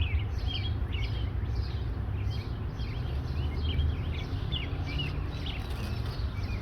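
Faint, repeated chirping birdsong drifts over a steady low background hiss and rumble in a cold-frame garden during an arugula harvest, with no voices present.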